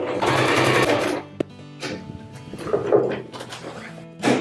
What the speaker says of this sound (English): I got sewing machine on the set on the zigzag, and I'm ready to go.